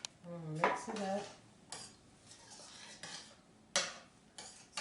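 A utensil clinks and scrapes against a bowl while stirring peach cobbler mixture with peach juice, several sharp metallic taps among softer swishing, fairly quiet and close.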